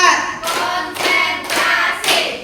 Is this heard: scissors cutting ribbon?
no